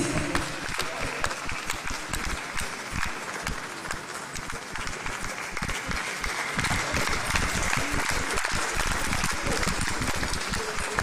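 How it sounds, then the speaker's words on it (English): A crowd at a university opening ceremony applauds steadily for the Vice Chancellor as she walks to her seat, a dense, sustained patter of many hands clapping with no break. "Let's keep applauding our Vice Chancellor as she gets to her seat."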